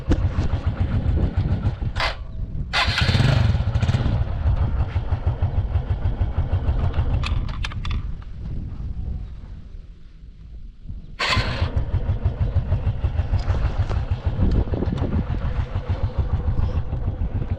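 A motorcycle engine on a jump start runs loud and close, revving up hard, dipping to a lower idle, then surging again with repeated throttle blips.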